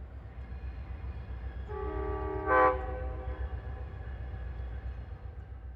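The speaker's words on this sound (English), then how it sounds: "With the blast of a horn knowing the approach of the Maple Leaf" An Amtrak Maple Leaf passenger train gives one short horn blast as it approaches a station in Niagara Falls, heard at a distance over a low, steady rumble.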